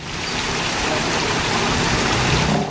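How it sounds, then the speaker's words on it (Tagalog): Heavy rain pours steadily in Aurora province, Philippines, a dense, loud hiss that never lets up, with no voices. "Magdamag na karanas ng malalakas na ulan sa probinsya ng Aurora."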